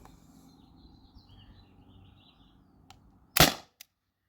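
An air pistol fires over a chronograph, one sharp loud crack followed by a faint short second snap, after a quiet stretch of low background hiss with distant bird chirps.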